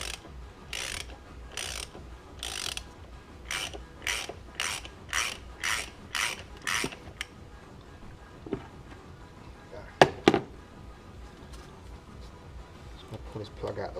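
A ratchet with an extension bar works a bolt loose on a Land Rover Freelander TD4, giving a run of about eight evenly spaced clicking ratchet strokes, followed by scattered metallic taps and handling noise, fairly close and moderately quiet.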